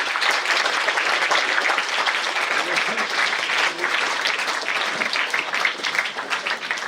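An audience at a St. George's Day prize distribution ceremony applauds continuously and loudly for several seconds, a dense, even wash of many hands clapping.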